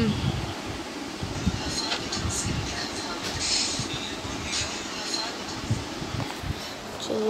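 Minecart rolling along rails in the video game Minecraft, a steady rumbling clatter of wheels on track running throughout with occasional knocks, while a voice talks over it.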